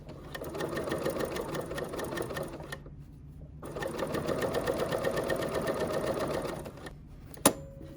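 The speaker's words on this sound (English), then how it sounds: "lift my presser foot, turn it around, and then stitch" A sewing machine stitches a fabric tote bag in two steady runs of rapid mechanical chatter, broken by a short pause, then stopping with a sharp click as the presser foot is handled.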